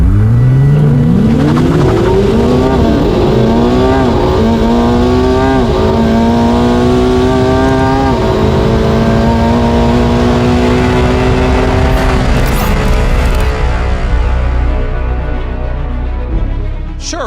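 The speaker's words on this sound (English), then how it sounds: "It's the way the 296 accelerates." A Ferrari 296 sports car engine revs hard and climbs through several gears, each upshift dropping the pitch before it screams upward again, loud and close, fading slightly at the end.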